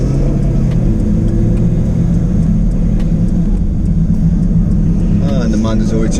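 A 2024 Jaguar F-Type pulls away with a loud, steady engine rumble building as it accelerates, heard close from inside the car, with a brief higher rising tone near the end.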